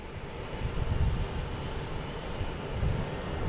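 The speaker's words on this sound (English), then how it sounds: "we got a Delta taking off heading to LaGuardia, an E175" A Delta Embraer E175 regional jet takes off at Boston Logan International Airport, a continuous rumbling engine roar with slight surges, moderately distant, with no voices.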